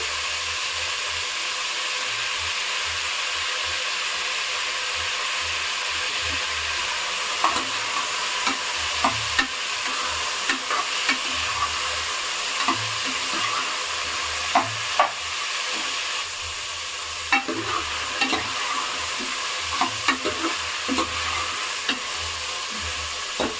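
Potato and brinjal sautéing in a pan, a steady loud sizzle with intermittent scraping and clinking of a spatula stirring the vegetables.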